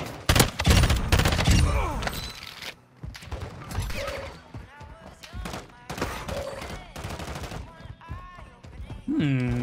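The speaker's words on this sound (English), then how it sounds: "I definitely heard the crack of a sniper rifle" Gunfire in a Modern Warfare II DMZ shooter match, several sharp loud cracks and bursts of shots among mechanical clatter, with a voice speaking in between.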